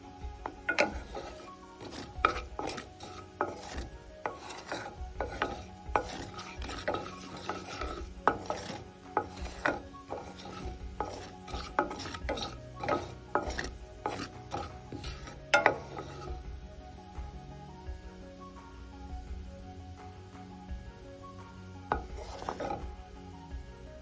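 Whole spices spluttering in hot oil give a near run of sharp pops and crackles with uneven rhythm, dense at first and thinning out toward the end.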